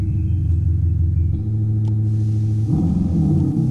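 A low, steady synthetic engine hum from an electric Volkswagen Golf rumbles continuously, shifting pitch slightly partway through like a simulated motor revving, with no voices.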